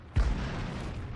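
A tank shell ricocheting off armor in World of Tanks, a single sharp, heavy impact boom followed by a short rumbling tail against continuous battle noise.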